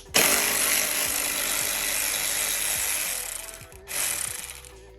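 A ratchet on an extension drives screws while a cold air snorkel is fitted to a 2022 Genesis G70, a close, continuous rapid clicking whir that pauses briefly and then starts again.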